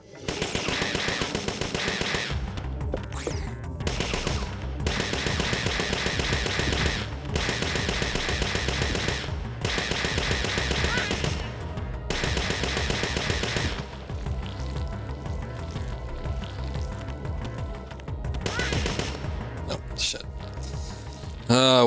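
Rapid automatic gunfire from a gun in the video game Parasite Eve II rattles in long loud bursts separated by short pauses, continuing throughout.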